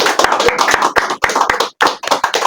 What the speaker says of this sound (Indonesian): Tepuk tangan yang luar biasa untuk Kak Agus.